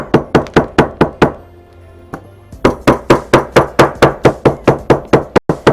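A small hammer taps repeatedly on a fabric tablet case, producing sharp, loud, evenly spaced knocks in two bursts separated by a short pause.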